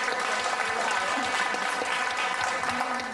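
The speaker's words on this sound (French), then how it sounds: "Applaudissez pour ça, s'il vous plaît." Applause from an audience at a Guinean renewable-energy association event, honoring young people who make home solar panels; steady, dense clapping fills the whole stretch at moderate level.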